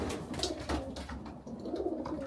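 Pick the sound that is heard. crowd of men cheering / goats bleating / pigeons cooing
pigeons cooing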